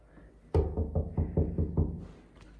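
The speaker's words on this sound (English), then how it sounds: "Do you want me to knock?" Knocking on a door, a quick series of about seven firm knuckle raps in an even rhythm, loud and close, followed by quiet.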